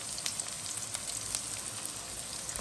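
Onion, tomato and green chili fry in hot oil in a pan for a Bengali chicken and potato curry, giving a steady, close crackling sizzle with scattered pops throughout and no talking.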